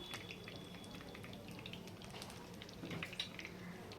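Soya cutlets sizzle faintly in a pan as they are flipped, with soft scattered crackles and small clinks, quiet and close, no voices.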